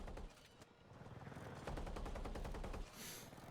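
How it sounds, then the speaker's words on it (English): Rapid machine-gun fire from a helicopter gunner seat in a video game rattles in steady bursts, fairly quiet overall, with a helicopter-like drone underneath. "We got him shooting, trying to send shots down range."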